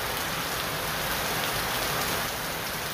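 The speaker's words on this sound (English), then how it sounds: "Because the rain is misbehaving." Steady rain falls near a stadium construction site in Uganda, a dense, even hiss of drops on surfaces filling the whole stretch with no talk and no thunder.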